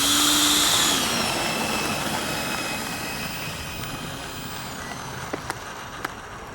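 Freewing A-10 Warthog V2 RC jet with twin 64mm electric ducted fans, taking off without flaps: a loud, steady high-pitched fan whine that swells at the start and then holds as it pulls away, with a few sharp clicks near the end.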